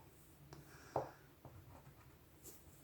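A pen writing a color name on a paint swatch, faint scratchy strokes with one sharper tap near the start, quiet and close.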